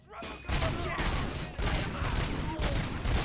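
Heavy combat gunfire in the video game RoboCop: Rogue City, with dense, loud bursts of shots in repeated waves over about three seconds and no one talking.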